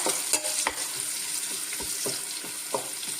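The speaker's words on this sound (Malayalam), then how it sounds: "കുറേയേറെ കരിയാപ്പിലയും കൂടെ ഇട്ടിട്ട് വറുത്തെടുക്കാം" Steady crackling sizzle of leaves frying in hot oil, with a few sharp spatter pops and light stirring knocks, close up and no talking.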